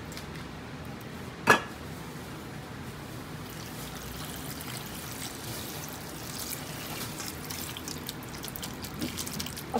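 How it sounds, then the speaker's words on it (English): Water is poured into a bowl of sliced bitter gourd (ampalaya), a soft continuous pouring and trickling that runs throughout at low level after one sharp knock near the start, with no talk. "So, let's put some water."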